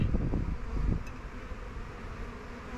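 Honeybees hum at an open hive during an inspection, a steady close-up buzzing drone lasting a few seconds with a few louder passes at the start.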